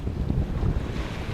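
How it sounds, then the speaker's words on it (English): Wind buffets the sailing boat Mingming II in mixed weather on the Norwegian Sea, a brief, close, steady rush and rumble of gusting air. "So we'll just see what happens with this wind."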